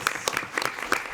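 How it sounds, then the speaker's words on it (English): Brief, light clapping at a school board meeting, a handful of scattered claps from a small audience, faint and over in about a second. "Yes, it deserves an applause"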